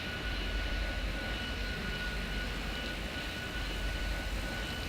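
Beechcraft aircraft engine in Airport Madness 3D at London City, a steady, dense broadband drone holding loud and even throughout with a faint whine above it, no pauses and no voices.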